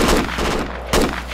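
Two bursts of loud, rapid gunfire crackle close by in the game Project Reality, separated by a brief pause, with a distorted, game-like quality.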